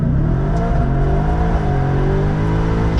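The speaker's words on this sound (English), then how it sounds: "A smoky all-wheel drive, a smoky burnout in a truck." A 2023 Ford F-150 Raptor R V8 pickup roars through a smoky burnout. The engine holds a loud, sustained, close-up roar with a slight rise and fall in pitch and no pauses.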